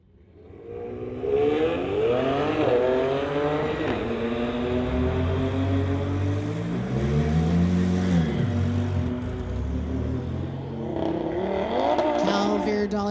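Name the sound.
Kia Stinger and 2017 Infiniti drag racing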